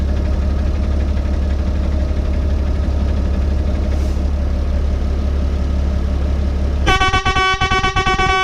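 Air horns fitted to a DAF LF truck, run off the truck's air supply with a slight leak, blast loudly in the last second and a half after a steady engine idle, sounding in short repeated toots.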